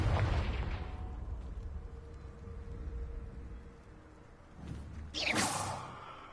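A Confringo fire spell bursts in Hogwarts Legacy on PS5, a loud blast and swelling rumble at the start that fades into a low hum, then a sharp whooshing burst near the end.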